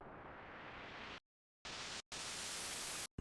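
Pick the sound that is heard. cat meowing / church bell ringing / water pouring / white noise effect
white noise effect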